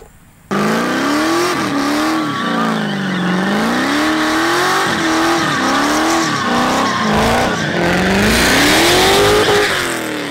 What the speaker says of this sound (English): Can we do a burnout?